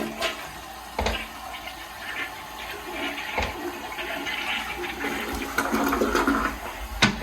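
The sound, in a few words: toilet flushing in a hotel room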